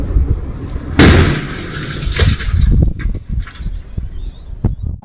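A vehicle crashes into a truck: a sudden loud crash and crunch of impact bursts out, followed by a second scraping hit and scattered rattling debris as the noise settles.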